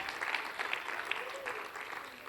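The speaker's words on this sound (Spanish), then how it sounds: "Si lo cree, dele el aplauso al Señor." Brief applause from a church congregation, a dense patter of clapping hands with a faint voice murmuring underneath.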